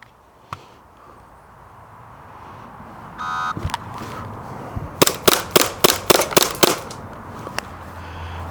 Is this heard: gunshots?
yes